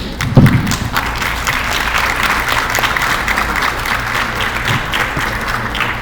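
Modest applause from a small conference audience, steady and continuous throughout with a few thuds near the start, filling the room without any talking over it.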